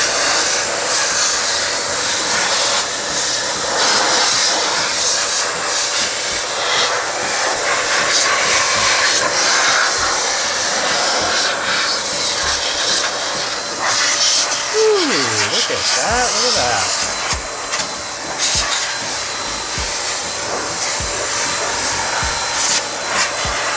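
An Xpower A-2 multi-use air duster blows on its low speed setting, a steady loud rushing whoosh with a motor whine, while a voice talks briefly over it.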